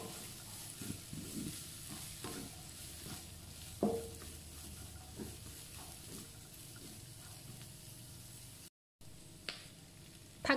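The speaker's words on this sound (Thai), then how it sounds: "เราจะผัดให้ผักของเราสุกนิดนึงนะคะ" Kale and vegetables being stir-fried for beef fried rice, a quiet steady sizzle with scattered scrapes and taps of a utensil against the pan, no talking.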